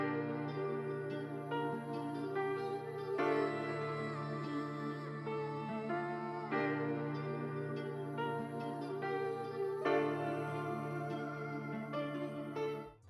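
Dark, moody UK drill melody with vinyl crackle and tape-style effects, a dense sustained harmonic bed with phrases restarting every few seconds, loud and steady throughout with no voices.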